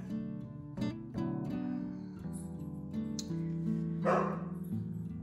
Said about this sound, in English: I apologize about the dogs barking